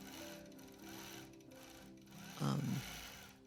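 A sewing machine stitches long free-motion quilting runs in a steady, quiet mechanical whir, with a brief louder burst near the end.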